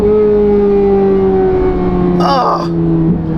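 A Corvette C8 Z06 fitted with Soul cats exhaust revs loudly and close, a steady strong engine drone with a brief rising and falling rev swell near the end.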